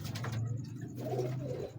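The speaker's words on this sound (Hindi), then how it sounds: "पुराने कबूतर देख रहे हैं आप" Close pigeon cooing from old big-breed fancy pigeons kept by a breeder, a steady low throaty coo repeated in a soft rolling rhythm through the whole stretch with no talking.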